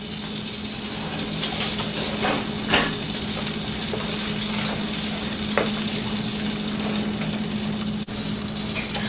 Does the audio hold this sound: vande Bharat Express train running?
no